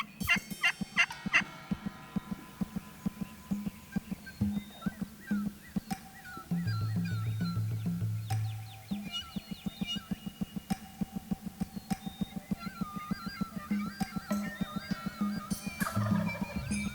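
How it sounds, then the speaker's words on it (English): Wild turkey gobbling repeatedly in the woods, with several mid-range bursts across the stretch amid a busy, layered bird-call background. "a turkey like that just will not stop gobbling"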